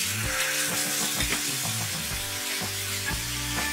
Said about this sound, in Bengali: এবার হলুদটা দিয়ে দিলাম, একটু হালকা নাড়াচাড়া করে নেব